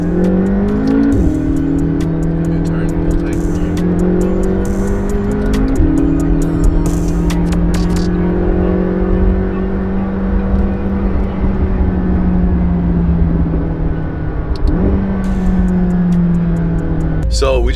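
McLaren sports car with a custom LED steering wheel and shift light accelerating hard on a street, engine note climbing through gears with shifts around two, six and fifteen seconds, loud and close from inside the cabin.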